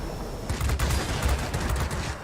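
Rapid bursts of machine gun fire at an enemy jet in a Korean War-style air combat game, fired from a Russian fighter chasing a Sabre, rattling loud and close over a steady engine drone.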